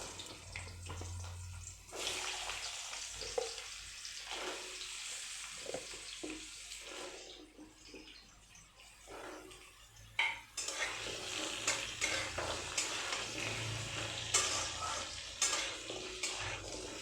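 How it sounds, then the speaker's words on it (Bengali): Potatoes frying in hot oil and being stirred for a Bengali duck egg curry: a steady, close sizzle with scraping and clattering of a spatula against the pan, and no talking. "এবার ওই তেলে আলুটা ভেজে নেব।"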